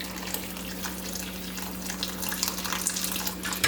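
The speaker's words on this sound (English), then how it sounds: "Get your kettle on, and you will pour boiling water on here." Boiling water pours from a kettle over smoked herring fillets in a kitchen, a continuous soft splashing stream with a steady low electrical hum beneath it.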